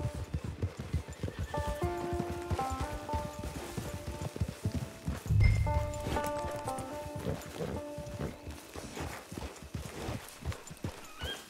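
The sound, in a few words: horse hooves in video game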